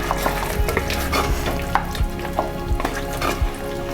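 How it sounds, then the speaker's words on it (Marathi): Steady sizzling of a ground spice paste for mutton masala frying in a pan, with a spoon scraping and stirring in regular strokes, close up with no voices. "हे वाटण घालून छान परतून घेऊया."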